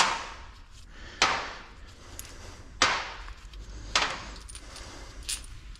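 Metal gearbox bolts from an Audi A7 C7 S-Tronic transmission handled in a workshop: several sharp metallic clinks and taps land at irregular intervals, each one close and clear over quiet background noise.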